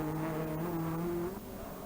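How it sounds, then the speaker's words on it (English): Vauxhall Chevette rally car at the 1984 West Cork Rally, a loud engine note held high then dropping as it passes close, with tires squealing briefly. "he is followed by the ex-Jimmy McRae Chevette of Cyril Bolton"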